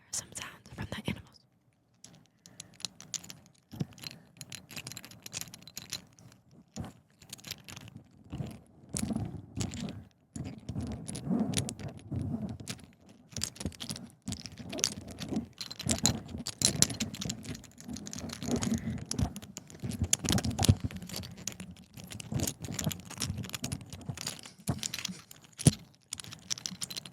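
Small 3D-printed animal figures, a fox and a polar bear, handled close to the microphone, giving steady soft tapping, clicking and rustling for nearly half a minute at low level.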